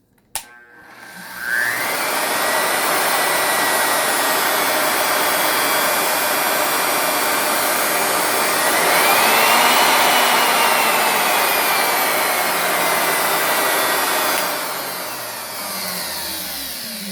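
Porter-Cable 7518 SpeedMatic production router with an empty spindle, spinning up gently through its soft start into a loud, steady high-pitched whine that runs on for many seconds, then begins to wind down near the end.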